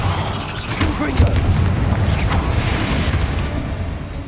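A Confringo blasting curse goes off in Hogwarts Legacy, a loud boom with crackling bursts in a dense low rumble that stays steady throughout.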